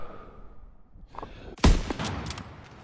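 A single loud, sharp gunshot in a Call of Duty WW2 Battle of the Bulge mission, followed by a short crackle of further shots and reverberating battle noise after a quieter, rumbling stretch.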